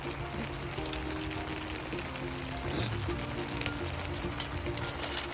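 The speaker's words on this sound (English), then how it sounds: "and now it's hailing." Hail falls outdoors during a lunch break on a plumbing job in Oregon, a continuous fine crackling patter over a low steady hum, with no one speaking.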